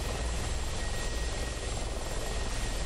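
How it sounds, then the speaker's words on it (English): Mi-24 Hind helicopter in the DCS flight game, a loud steady rotor and turbine roar filling the whole stretch with even, unbroken intensity and no talk. "now we're over in a new helicopter"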